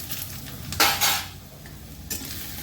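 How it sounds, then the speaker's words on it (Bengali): Ground spices (turmeric, salt, cumin, coriander and chilli powder) being stirred and fried in a pan for pointed gourd curry: utensil scrapes and clinks against the pan with a soft sizzle, two louder scraping bursts, close and without talk. "এবার আমি ভালো করে কষিয়ে নেব।"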